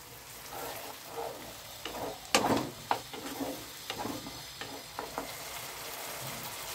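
Spiced paste for paneer curry hitting a hot pan, sizzling faintly with scattered sharp crackles and stirring clatters over a low steady fry, no talking.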